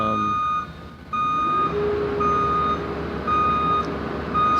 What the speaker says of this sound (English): Sorry about the beeping, but you can hear it inside, outside.